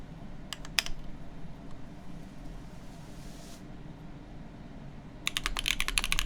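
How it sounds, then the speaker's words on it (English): Brief bursts of typing on a Keycult 2/65 keyboard with Keygeek nylon switches, GMK Symbiote keycaps and a full alloy plate without foam, clacking at the start and in a denser run at the end, with a quiet gap between. "they're supposed to be like these nylon switches made by Keygeek, and this is currently on the full alloy plate"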